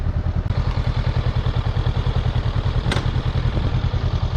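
A motorcycle engine, likened to a Honda CB500X's, idles close by with a steady, rapid, pulsing thrum and a slight clatter, with no talking over it.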